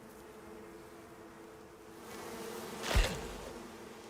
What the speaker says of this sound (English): Here, bees.